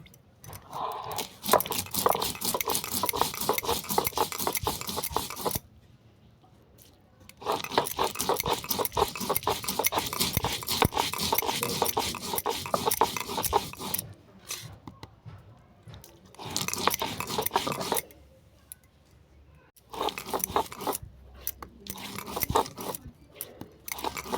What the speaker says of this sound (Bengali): আর নিলাম সাদা সর্ষে এই সমস্ত উপকরণ আমি একসঙ্গে বেটে নিচ্ছি